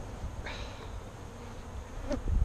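Saskatraz honey bees hum inside an open hive, a close, steady buzz with a few brief louder passes near the microphone and faint knocks toward the end.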